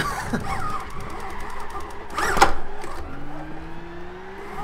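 A Nissan 370Z engine drones steadily in Gran Turismo 5, swelling briefly in a loud burst midway, then settling into a lower rising hum.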